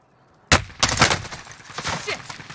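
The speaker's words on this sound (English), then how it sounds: "Shit! I'm taking fire!" Rapid bursts of automatic gunfire in a shooter video game, loud and near, starting abruptly and continuing in dense overlapping volleys.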